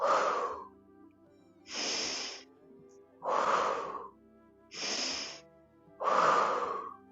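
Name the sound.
deep breathing in through nose, out through mouth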